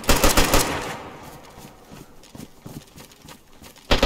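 Rapid bursts of automatic gunfire in the survival video game DayZ, loud at the start and again at the end, with scattered fainter shots and thuds between them.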